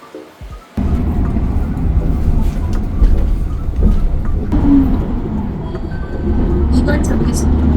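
Steady low rumble and rolling noise inside a moving commuter train, loud and continuous, with faint voices beneath it.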